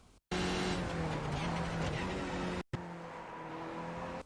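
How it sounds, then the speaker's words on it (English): An iRacing Skip Barber race car brakes hard at Interlagos and downshifts. The engine drones loudly and steadily, then cuts out briefly and returns at a lower, quieter pitch. "Hit the brakes hard and shift down into third gear"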